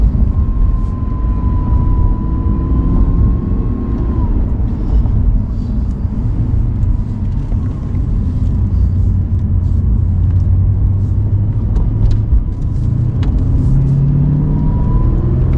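An Audi R8 sports car engine pulling under full throttle in Andorra, a loud, continuous close-up drone and rumble from inside the car that holds steady without any clear rising rev.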